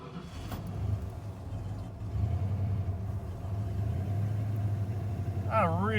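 A pickup truck engine, which had died in park, turns over and settles into a low, steady idle rumble, with a brief high whine near the end.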